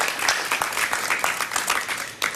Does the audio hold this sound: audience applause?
yes